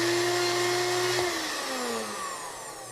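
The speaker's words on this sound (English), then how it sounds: "you got your magic bullet out, you're ready to make a shake, and it sounds like this" Magic Bullet blender with a worn gear, whining motor with a harsh grinding buzz that winds down in pitch as it slows, close and loud with no voices.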